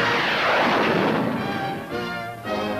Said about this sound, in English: all goes smoothly in Honest John's debut, the first rocket ever fired over the sacred mountain of Japan